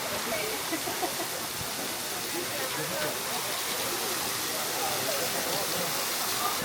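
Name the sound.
waterfall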